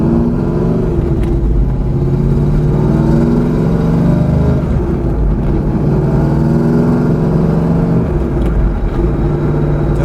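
Pontiac Trans-Am WS6 V8 accelerating on the road, a loud, steady, deep engine roar with rising harmonic tones and heavy low rumble throughout, heard from inside the car with no talking.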